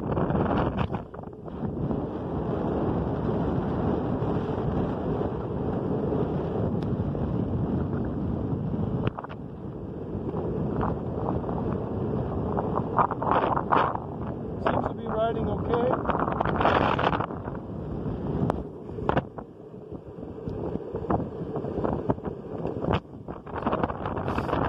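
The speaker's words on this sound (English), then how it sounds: "It's just too much wind hitting me right now." Strong outdoor wind buffeting the microphone of someone skating, a loud continuous rumbling roar that gusts and dips throughout, with a person talking over it.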